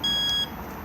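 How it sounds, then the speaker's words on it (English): A Lunar Lexon 660 alarm arming: a single high electronic beep sounds once, clear and close, over a low background hum. "1 beep armed"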